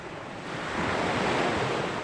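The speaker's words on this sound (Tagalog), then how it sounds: "nandito tayo sa karagatan" Ocean waves at sea from a fishing trip out on open water, a steady wash of surf that swells slightly louder, mixed with wind buffeting the microphone, with no voices.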